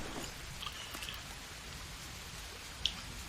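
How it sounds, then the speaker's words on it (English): Steady rain in the video game Green Hell patters in a continuous hiss, with a few faint drips and one small sharp tick. "See, it's raining"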